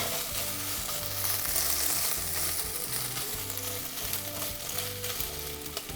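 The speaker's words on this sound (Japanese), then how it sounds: "弱火からじっくりとまずはベーコンに焼き目をつけるっていうことがポイント" Bacon sizzles steadily in a pan over low heat as carbonara gets started, a continuous close frying crackle with a rhythmic low clatter of stirring underneath and no voices.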